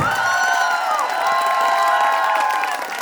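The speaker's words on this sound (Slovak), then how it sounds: "Dajte veľký potlesk!" A concert audience at a radio station after-party cheers, whistles and claps, with loud, sustained crowd noise and high excited shouts that fade slightly toward the end.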